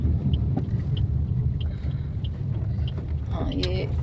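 A car travels along Hoshiarpur Road in Punjab toward Harmandir Sahib, heard from inside as a steady, heavy low rumble of engine and road noise that runs unbroken throughout, with faint background chatter.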